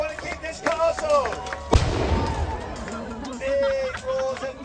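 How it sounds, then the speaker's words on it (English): A costumed 15th-century-style battle reenactment at a castle between England and France sides, with a single sharp bang of gunfire about two seconds in, followed by a broad crowd roar and babble, with voices and shouting before and after. "Big roars and guns"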